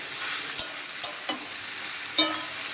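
Mushroom sabzi ingredients with frozen peas sizzle gently in a pan while a spoon stirs them, giving four crisp clicks against the metal over a low steady frying hiss.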